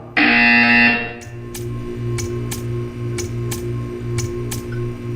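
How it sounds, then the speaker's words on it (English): A loud, steady electronic buzzer tone from the Portal 2 video game lasts about a second, then gives way to a series of evenly spaced sharp ticks over a low humming background. "You will hear a buzzer."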